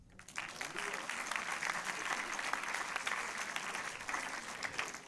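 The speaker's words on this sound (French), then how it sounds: "Vous pouvez applaudir." An audience at the closing ceremony of the 2022 Saint-Jean-de-Luz International Film Festival breaks into applause, starting quickly and holding a full, continuous roar of clapping throughout.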